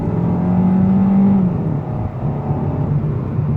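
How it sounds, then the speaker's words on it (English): A 2022 Kia K5 EX with a 1.6-liter turbocharged engine pulls hard under acceleration, a steady low engine drone rising briefly in pitch then settling into a smooth, muted hum heard from inside the cabin, with no talking. "Now the engine does not make the best noise."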